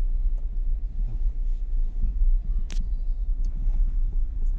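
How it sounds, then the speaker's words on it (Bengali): A private car's engine hums as a low, steady rumble while the car creeps forward at light throttle during a beginner's driving lesson. It is close and continuous inside the cabin, with one brief sharp tick partway through. "বাস গাড়ি এভাবে চলতে থাকবে।"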